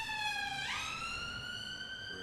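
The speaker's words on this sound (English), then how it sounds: "Sorry guys, sometimes you might hear a siren." A siren wails on a street in Brixton, a clear rising and falling tone that sweeps in the distance, steady and fairly faint, with no talk.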